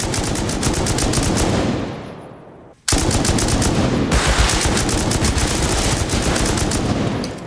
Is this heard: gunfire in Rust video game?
yes